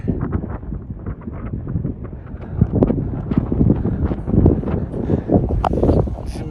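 Cold wind buffets the microphone at Tilicho Lake, a loud, continuous low rumble with gusty surges and bumps throughout.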